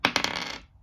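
Six normal-size plastic D6 dice from a Qwixx game set, yellow, red, blue, green and two white, dropped onto a table, giving a quick cluster of sharp clattering clicks that rattle and fade within a second.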